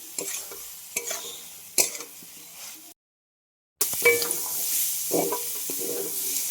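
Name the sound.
stir-frying prawns, potatoes and soybean chunks with spices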